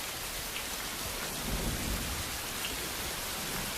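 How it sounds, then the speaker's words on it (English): Heavy rain pours down steadily in a dramatic film scene, a dense continuous roar like buckets being dumped, with deep rumbling underneath and no voices. "the sound of the immense amount of, like, buckets of rain just being dumped on him"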